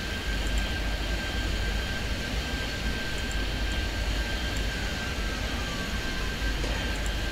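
Steady broadband roar of airplane engines in the Airport Madness 3D air traffic game at London City, a continuous even drone with a faint high whine held throughout, no voices.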